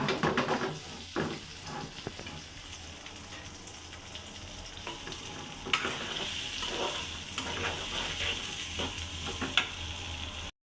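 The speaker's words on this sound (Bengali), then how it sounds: "আমি এখন পেঁয়াজ কুচি আর রসুন কুচি দিচ্ছি। এখন আমি নাড়াচাড়া করব।" Chopped onion and garlic frying in hot oil in a pan, a continuous sizzle broken by repeated scraping stirs and a few sharper clinks of the spatula, with no voices.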